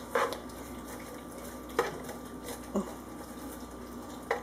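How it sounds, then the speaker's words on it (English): Onions are tossed in oil in a pan for apple butter pork chops, with a faint sizzle under a few sharp utensil scrapes and clinks spaced irregularly. "we're going to kind of toss them in the oil so everything's well coated"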